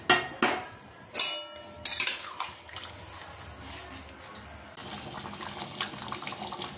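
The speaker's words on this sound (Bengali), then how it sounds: "এবার উপর দিয়ে দেবো দুধটা।" Milk is poured over shukto in a pot with a steady trickling flow, preceded by a few sharp clinks of utensils against the pot.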